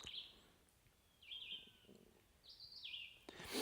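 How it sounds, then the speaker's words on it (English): Wild birds singing in a Northwoods forest in the morning, with several high chirps and whistled phrases coming from a middle distance in quiet surroundings and no talking. "I absolutely love listening to the birds."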